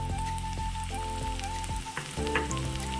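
Close, continuous sizzling of green chilli, ginger and garlic sautéing in a hot pan, with a few stirring scrapes and a faint steady hum underneath.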